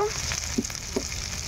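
Steady, close sizzle of spice paste for a fish curry frying in hot oil, with a couple of soft stirring knocks partway through.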